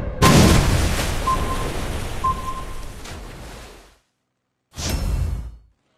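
An enemy warship explodes in the naval video game Warship Blitz, a loud booming blast that rumbles and fades over about four seconds, followed after a brief silence by a second, shorter burst.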